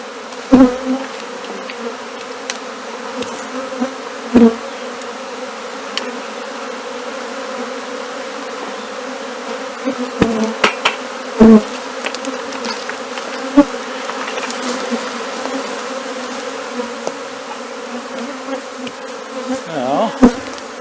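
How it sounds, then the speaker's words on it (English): A dense, steady drone of a honeybee swarm buzzing continuously around a tree and bucket, with occasional louder individual bees zipping close past. "You would definitely say I've got the majority of the bees"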